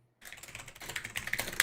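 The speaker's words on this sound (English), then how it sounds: "I was typing something else." Computer keyboard typing in a fast, uneven run of close, crisp key clicks that grows slightly busier toward the end, with no talking over it.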